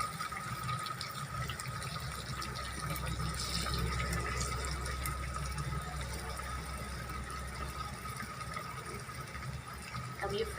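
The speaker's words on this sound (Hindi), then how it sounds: "जो बकाया एंड में रह गए हैं उसको मैं एक ही साथ सबको फ्राई कर लूँगी" Chicken pieces frying together in hot oil, a steady broadband crackle and bubbling hiss that runs the whole time at an even, moderate level, with a low background hum underneath.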